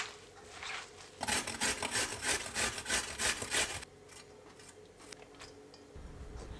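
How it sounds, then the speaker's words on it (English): In a Turkish home kitchen, about 250 grams of a mixture is rubbed with salt by hand in a big bowl. The scratchy, rhythmic rubbing runs steadily for a few seconds, then fades to quieter handling. "Place it in a big bowl, adding some salt and rub with the salt to soften the mixture."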